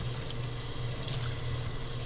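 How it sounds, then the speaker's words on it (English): Tap water runs steadily into a cup being rinsed at a sink in a smoothie shop, producing an even, continuous splashing hiss for the whole stretch. "use the hot soapy water and then rinse it well"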